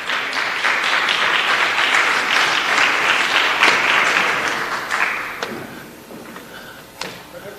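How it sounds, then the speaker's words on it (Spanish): Loud, dense applause fills a tourism ministry session hall, holding steady for several seconds before thinning out into a few scattered claps and thuds. "Los invito acompañados por un aplauso"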